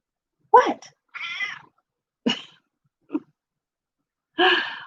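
A cat meowing at home in several separate, varied calls, some short and chirpy, others longer and drawn out, close to the microphone with quiet gaps between them.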